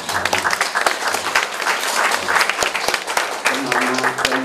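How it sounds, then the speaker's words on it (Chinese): An audience at a donation ceremony for an elderly-care transport vehicle gives loud, lively applause, many hands clapping in a dense, uneven patter close by, with voices speaking over it. "大家要拍手"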